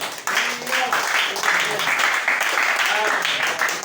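A church congregation breaks into steady applause and cheering that fills the space for several seconds, with voices calling out over the dense clapping.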